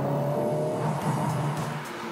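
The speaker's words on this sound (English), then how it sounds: "You've also got this wonderful rev matching, so that when you're downshifting, the revs are there" A 2023 Honda Civic Type R engine blips its revs briefly with rev matching as it downshifts its manual gearbox, a short rising and falling growl close by.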